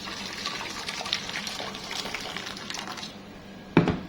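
Boiling water mixed with vinegar or lemon pours from a kettle into an aluminium tray in a home kitchen, a soft steady gushing splash lasting a few seconds, ending with a brief clink of the tray.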